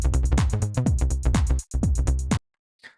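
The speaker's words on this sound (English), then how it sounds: "I've got a bass line, sounds like this." A bass line programmed in Ableton plays a punchy, groove-driven pattern of short repeated notes, loud and upfront, then cuts off abruptly to near silence with a faint blip at the end.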